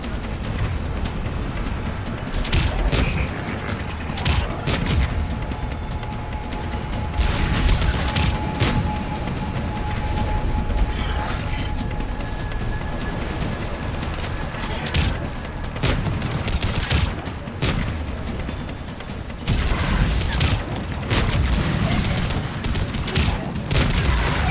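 Combat gunfire in Mass Effect 3, dense continuous volleys of shots and booms over a rumbling battle background, loud and sustained throughout.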